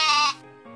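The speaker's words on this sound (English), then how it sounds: "they heard the horrible, horrible sounds of the dragon" A single sheep bleats once, close and loud, as a sound effect in a told dragon story: a short wavering, nasal cry that drops in pitch and trails off.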